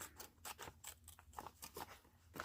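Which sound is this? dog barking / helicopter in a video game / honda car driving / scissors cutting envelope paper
scissors cutting envelope paper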